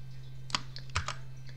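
Computer keyboard keys pressed for copy and paste shortcuts while preparing a token design for an xTool M1 laser, a few quick separate clicks, close and fairly faint over a steady low hum.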